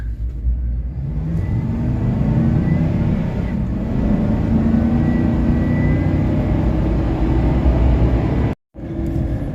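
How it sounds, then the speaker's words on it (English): A supercharged Chevrolet Silverado Trail Boss 5.3 pickup with a Magnuson TVS 2650 supercharger roars under hard acceleration with a faint high supercharger whistle riding on top, loud and close, cutting out briefly near the end. "I'm gonna give you one good moderately hard acceleration just so maybe you can hear the whistle."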